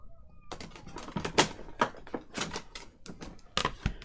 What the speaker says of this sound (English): let me just cut that margin off first